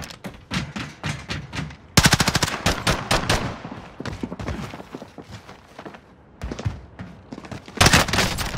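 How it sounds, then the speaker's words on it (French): Rapid automatic gunfire in a shooter video game, loud sustained bursts of rattling shots broken by short pauses, with thuds and impacts mixed in. "Je subis des tirs"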